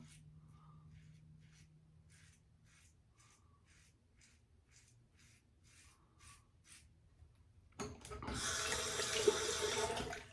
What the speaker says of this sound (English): You definitely have to rinse a single edge more.